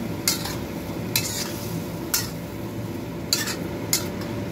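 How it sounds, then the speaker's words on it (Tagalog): Adobong sitaw with string beans being stirred in a cooking pan, five separate scraping strokes of a utensil spaced about a second apart over a low steady sizzle. "Haluin natin."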